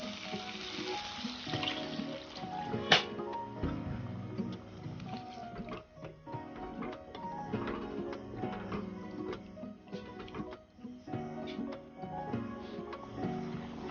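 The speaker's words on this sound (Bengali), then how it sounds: "এবার এর মধ্যে জল দিয়ে দেবো।" Water poured into a kadai paneer masala, a continuous wet splashing and sizzling in the pan that stays close and fairly even throughout, with no talking.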